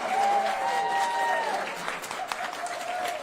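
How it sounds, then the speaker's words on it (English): Audience applause at a school voucher protest, a steady wash of clapping from the crowd with speech and a tonal voice over it, continuing evenly throughout. "we're going to give a round of applause to Ms. Carol Berry, our supervisor."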